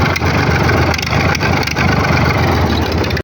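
A big tractor's engine arrives with a loud, steady mid-pitched rumble and a few brief pulses, sustained for a few seconds before stopping suddenly.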